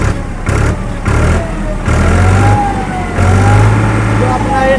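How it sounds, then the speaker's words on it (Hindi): A Digitrac PP 43 i tractor, a 2025 model with a new engine, idles loudly close by, its low engine drone rising in steps as the throttle is opened and eased off, steady and continuous without talk. "अब थोड़ा सा थ्रॉटल देता हूँ।"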